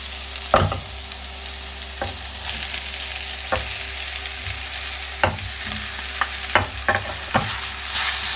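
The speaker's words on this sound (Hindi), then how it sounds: "थोड़ी देर के लिए इतनी अच्छी तरह से फ्राई कर लेंगे।" Spiced mashed potato for samosa filling stirred and fried in a pan, with a constant hiss of sizzling and sharp spoon scrapes and knocks every second or so, louder and quicker toward the end.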